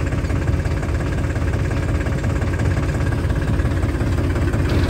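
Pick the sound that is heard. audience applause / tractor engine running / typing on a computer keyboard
tractor engine running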